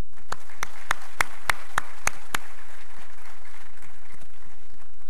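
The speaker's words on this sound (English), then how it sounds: "A round of applause, please." A short burst of scattered clapping from the audience at a memorial lecture, a handful of sharp claps in the first two seconds that quickly die away into a quiet room hum.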